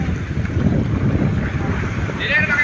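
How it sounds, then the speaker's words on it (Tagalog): Wind gusts buffet the microphone in a low, rumbling roar, with a voice talking faintly underneath. "Medyo maingay po sa taas mga idol dahil may hangin-hangin konti."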